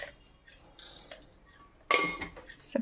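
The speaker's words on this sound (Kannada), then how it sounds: "ಅದಕ್ಕೆ 2 ಸ್ಪೂನ್ ಸಕ್ಕರೆ ಹಾಕೋತಿದ್ದೀನಿ" A spoon scooping sugar onto small peeled orange pieces in a bowl for juice, a few light metallic clinks and scrapes, the clearest near the end, quiet and close with no talking.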